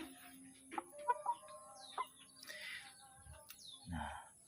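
Free-range village chickens cluck softly while pecking at feed in a coop, with scattered short clucks and chirps at close range and a few faint background sounds.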